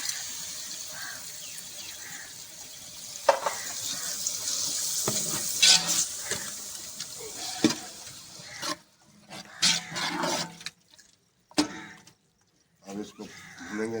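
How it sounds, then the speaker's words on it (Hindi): Fish curry with tamarind sizzles and is stirred in a pan, with soft frying hiss and scraping spoon strokes close by. A voice talks over the cooking, and the sound thins toward the end. "भून लेंगे अच्छे तरीके से।"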